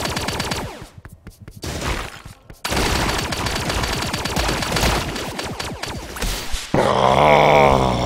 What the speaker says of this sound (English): Would you all just stop shooting me for a second?